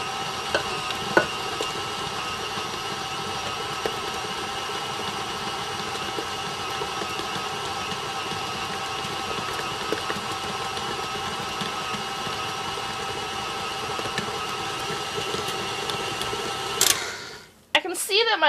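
Electric mixer beating mint buttercream, a steady whirring motor drone with faint rattling, running continuously and fairly loud before cutting off near the end.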